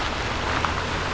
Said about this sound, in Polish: siedzę w aucie, bo pada deszcz.